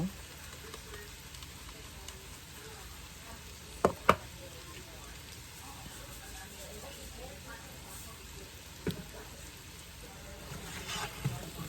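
Vegetables seasoned with salt and pepper sauté in a pan, giving a faint, continuous sizzle with a few sharp clicks of utensil on pan scattered through it.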